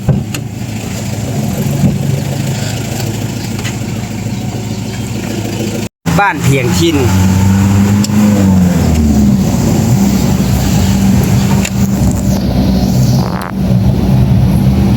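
A bus engine drones steadily from inside the cabin on a ride toward Vientiane, Laos, with a continuous low hum that briefly cuts out and then shifts pitch as it pulls on, while a voice talks over it.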